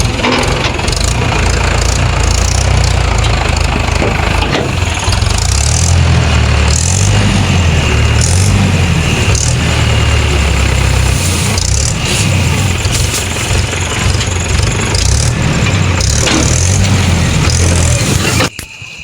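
A farm tractor loaded with bundles of wheat sheaves idles loudly and close by, a steady low diesel rumble holding without a break for nearly the whole stretch before cutting off abruptly at the very end.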